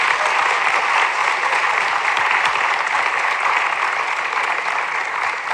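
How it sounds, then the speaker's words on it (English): Sustained audience applause at a student town hall at Grinnell College, dense even clapping from a full crowd holding steady and fairly loud throughout. "Yes, applaud this brother."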